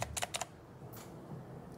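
Typing on a Dareu EK810 wired mechanical keyboard: a quick run of a few crisp keystroke clicks, quiet and close, then near silence.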